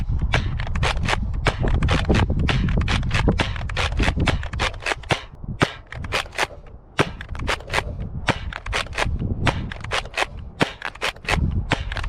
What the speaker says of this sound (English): Now let's fire some shots downrange.